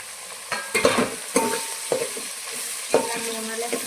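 Soybeans fry in oil with vegetables for vegetable pulao, a soft steady sizzle punctuated by several sharp spatula scrapes and stirs against the pan, close up and without talk.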